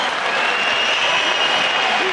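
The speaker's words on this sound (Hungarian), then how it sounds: "Fritz Dulek tapsol, Artur Grigorián tapsol" Applause at a cruiserweight world title boxing fight, a dense steady wash of clapping from a large arena crowd filling the whole moment, with faint voices mixed in.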